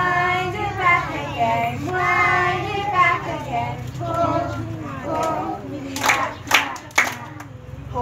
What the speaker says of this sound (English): Clap your hands together, 1, 2, 3